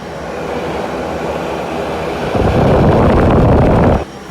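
Cold air rushes out of a semi-trailer vent in a steady windy hiss that jumps to a stronger, louder blast partway through and then cuts off abruptly near the end.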